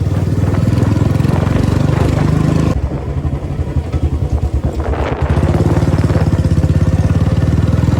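A Royal Enfield Bullet motorcycle engine thumps loudly nearby with its rhythmic single-cylinder beat, dipping as the revs change, with rapid crackling exhaust pops in the middle.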